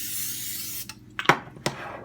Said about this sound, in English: I'm going to spray it out with some non-stick spray